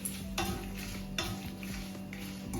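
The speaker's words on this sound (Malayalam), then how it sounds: "ഇളക്കി കൊടുക്കുക." A spoon stirs moru rasam in a pan over gentle sizzling, scraping in slow, repeated strokes that stand out close against a steady frying hiss.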